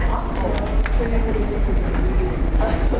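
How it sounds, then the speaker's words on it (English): A Japanese train station fills the scene with steady rumbling ambience, distant rail noise and footsteps under a continuous crowd murmur, with people talking nearby. "We are at the train station."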